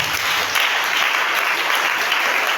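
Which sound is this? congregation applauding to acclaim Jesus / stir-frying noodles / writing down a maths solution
congregation applauding to acclaim Jesus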